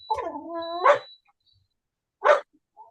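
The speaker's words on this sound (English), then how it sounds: "You hear the dog?" A dog gives a drawn-out whining bark followed a second later by a short second bark, nearby and fairly loud in an otherwise quiet indoor room.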